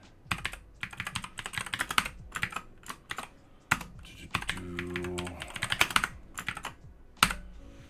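Rapid typing on a computer keyboard, with dense bursts of clacking keystrokes and short pauses, close and fairly loud, without any talk.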